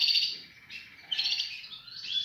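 Canaries and goldfinches sing in bright, high chirping phrases that warble and trill continuously, fairly close and clear, with brief pauses between bursts and no voices.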